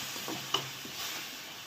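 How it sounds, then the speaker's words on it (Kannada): Carrot halva cooks with sugar in a pan and is stirred, giving a faint soft sizzle with a few quiet scraping strokes. "ನೋಡ್ರಿ ಹಿಂಗೆ ಕಲ್ಸ್ಕೊತ ಇರ್ಬೇಕ್ರಿ"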